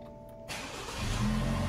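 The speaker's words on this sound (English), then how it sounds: "So let's go ahead and remote start the vehicle." A 2023 Lexus NX350 or RX350 starting by remote starter: brief quiet, then the engine cranks and catches at about half a second, building into a rising idle close by.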